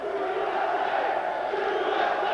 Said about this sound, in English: a chant of USA by the crowd for the American from Iowa